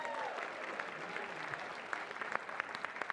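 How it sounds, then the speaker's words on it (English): An audience claps in applause for a stage performer, with steady dense clapping throughout and a few sharper claps standing out near the end, recorded at a moderate distance with faint voices underneath. "Round of applause for that."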